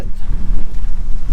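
Strong gusty wind at a campsite buffets the microphone, a loud, roaring, fluctuating low rumble close up, with no clear talking.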